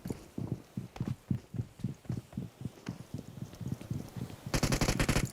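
Rapid video-game gunfire fires in a long string of sharp, evenly spaced shots, then ends in a dense, loud burst over the last second.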